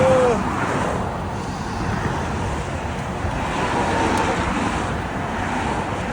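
Loud freeway traffic rushes past at the roadside, a constant broadband roar with gusty wind noise on the microphone and no break in the wash of passing cars.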